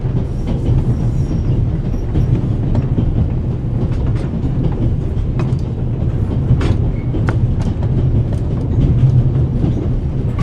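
Train rolling along the tracks in the adventure video game The Raven: a steady, loud rumble with clattering wheel noise and mechanical rattling continues throughout, with no voices.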